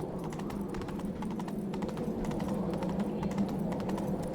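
Hooves of a galloping horse in The Witcher 3: Wild Hunt drum in a fast, even clip-clop rhythm, close and steady over low game ambience for several seconds.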